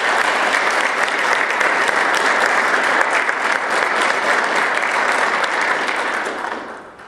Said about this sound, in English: let's give a round of applause to our Lynn Youth Council